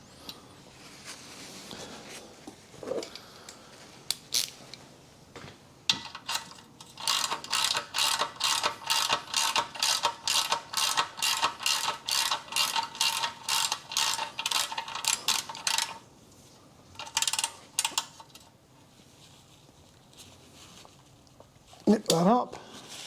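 Ratchet wrench snugging the oil drain plug on a 2008 VW Fox 1.2 petrol, a rapid run of close, crisp clicks lasting several seconds, with scattered handling noises before and after and faint talking.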